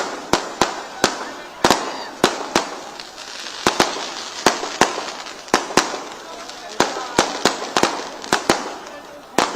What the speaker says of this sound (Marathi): फटाके बंद करा, फटाके ते तिथं लावले, तिथं पाणी टाक